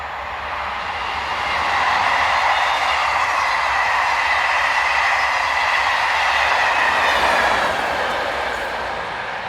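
A passenger train with a locomotive and coach formation rolls past, its loud broad rumble building over the first two seconds, holding steady, then easing slightly as it goes by, with no voices.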